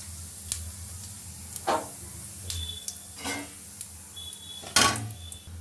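Whole white cumin seeds drop into hot mustard oil in a pan, giving soft sizzling crackles with a few sharper bursts and light stirring clinks, fairly close and with no talking.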